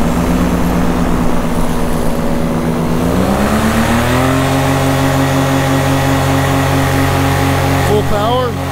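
A Flat Top Dominator paramotor engine runs loud and steady at full power, its droning pitch climbing around the third second and then holding high, with a voice talking over it.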